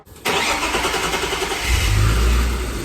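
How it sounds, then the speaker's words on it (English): A BMW E36 engine cranks and catches, settling into a steady idle, then the revs rise briefly; close and fairly loud, no talking. "let's start the car"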